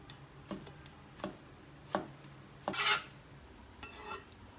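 A knife cuts duck blood into thick slices on a cutting board for Chongqing maoxuewang, giving about five soft, separate chopping taps with short gaps between them.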